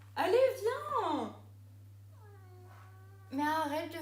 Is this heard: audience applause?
no